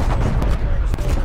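Heavy artillery fire in the Call of Duty video game, a dense, loud rumble of booms with a couple of sharper hits, filling the whole moment.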